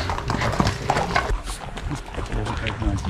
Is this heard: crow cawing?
no